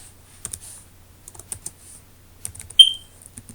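Typing on a computer keyboard while entering a web link into HTML code: scattered, uneven clicks of keys close by, with one sharper louder tap near the end and no voices.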